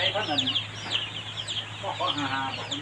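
Several chickens cluck and squawk in irregular bursts, fairly close, over a steady low hum with some background murmur.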